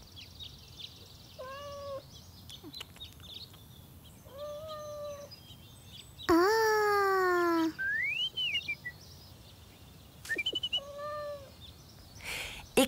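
A cat stuck in a tree meows several times, short rising and falling cries spaced apart, fairly close, with light background noise between them.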